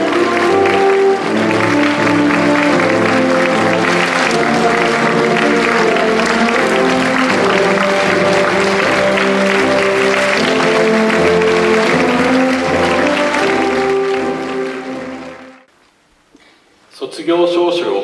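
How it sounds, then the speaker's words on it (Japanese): An audience at a school graduation ceremony applauds steadily as graduates enter, a broad sustained wash of clapping with music or tones beneath, lasting long before fading abruptly near the end, followed by a brief sound. "入場、拍手でお迎えください"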